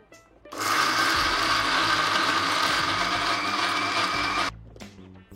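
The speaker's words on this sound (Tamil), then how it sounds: "ஃபஸ்ட்டு தண்ணி ஊற்றிக்காமல் முதல்ல பிளெண்ட் பண்ணிக்கலாம்." A mixer grinder blending green vegetable chutney without water whirs loudly and steadily for about four seconds, then cuts off, with a few quieter clinks before and after.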